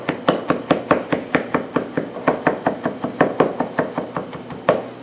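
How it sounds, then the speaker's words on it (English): A knife chops finely on a cutting board through fresh herbs for chimichurri. The strokes are steady, rapid and evenly spaced, about three per second, close and crisp, with no talking. "We're going to chop it to where it's very finely chopped up."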